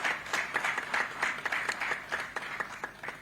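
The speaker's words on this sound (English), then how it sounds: "May we clap for them for the work that they do." Audience at the Zambia Anti-Corruption Conference applauding, a steady wash of many hands clapping in a room, continuous with rhythmic bursts for about three seconds, no talk over it.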